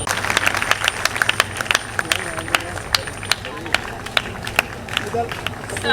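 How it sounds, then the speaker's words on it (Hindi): Applause from an audience at a school Independence Day celebration, a steady, dense patter of clapping close by with sharper individual claps standing out, under a low murmur of crowd voices. "तालियां बजाकर उनके सम्मान को बढ़ाएं"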